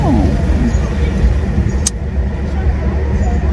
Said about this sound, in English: I'm in my cab right now.